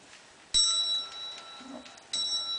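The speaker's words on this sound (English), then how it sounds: "Go ring your bell." A pet Senegal parrot strikes a small metal bell twice, each a bright ringing ding that decays slowly, with faint shuffling between the strikes and no speech.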